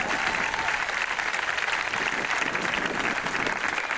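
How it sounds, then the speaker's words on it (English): An audience at a high school graduation ceremony applauds the graduates, a dense, steady wash of clapping from a large crowd that holds evenly throughout. "Let's give them a big round of applause."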